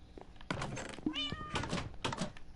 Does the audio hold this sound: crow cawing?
no